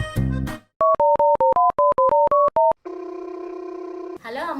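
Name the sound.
phone call ringing tone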